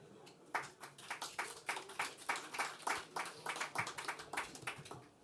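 Audience applause at a launch event for a smallholder farming programme: a steady run of hand claps from a modest crowd, moderately loud and fairly even, filling the whole stretch with no talk over it.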